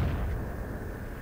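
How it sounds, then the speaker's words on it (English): Distant mortar impacts in the military shooter Project Reality, a low rumbling boom that fades into a long, muffled roll with no voices over it. "Be advised, enemy mortar British main."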